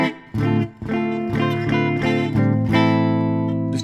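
Grote LPF-002 semi-hollow Les Paul-type electric guitar with one pickup in humbucker mode and the other coil-split: a few picked notes, then sustained strummed chords ringing out clearly and loudly, with no talk.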